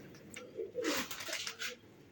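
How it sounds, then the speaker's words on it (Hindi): A pigeon perched on a rooftop coos in low, rolling phrases, fairly close, with soft rustling and brief hissy noise around it. "किसी का कबूतर बैठ रहा है"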